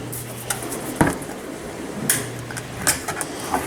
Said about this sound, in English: We're going to spoon the fruit evenly into the tortillas, roll them up, and then put them in our pan.